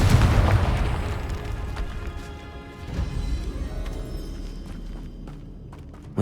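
A Confringo fire spell explodes in the Hogwarts Legacy video game, a deep boom at the start fading into a rumbling crackle, followed by a smaller thud and scattered debris clatter.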